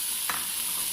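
Chicken mandhi ingredients, with a little mayonnaise added, stir-fried in a pan: a brief soft sizzle with one quick stirring scrape, close and steady, with no talking.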